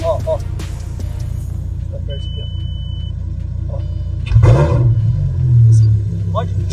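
A Ferrari engine rumbles at idle inside a residential condominium, then gives a short rev with a rising roar before settling, heard close and loud while people talk in the car.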